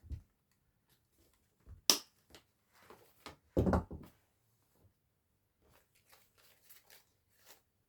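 Scissors or wire cutters snip through artificial maple and grape stems in a few sharp, close cuts with crisp clicks, followed by quieter rustling and handling of the stems.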